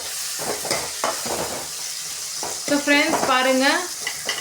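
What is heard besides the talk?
tomatoes and onions sautéing in pan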